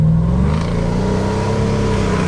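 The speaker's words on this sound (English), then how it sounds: "Hear those turbos." The turbocharged engine of the Aznom Palladium all-terrain luxury SUV revs loudly and close, a deep rising drone with harmonics and a faint turbo whistle layered on top.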